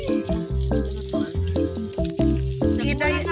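Onion and garlic sauté in a pan for an evening catch-and-cook meal, a soft steady sizzle running beneath louder background music.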